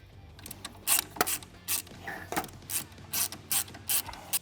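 A hand ratchet tightens a nut while a ThunderMax oil cooler fan is fitted to a Harley-Davidson Milwaukee-Eight. Short bursts of crisp clicking come in an uneven rhythm, close and fairly quiet, with no talking.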